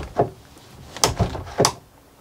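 The door of a Le Voyageur Liner Signature 8.5 GJF motorhome is handled, giving a few close clicks and solid thunks as it swings and latches shut.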